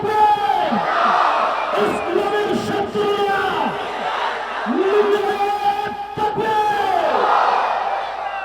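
At a religious gathering, a large crowd roars the takbir together in repeated surging bellows, loud and echoing, with voices swelling and falling in waves across the space.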